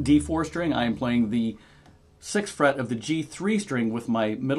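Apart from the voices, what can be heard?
No everyday noise stands out behind the speech.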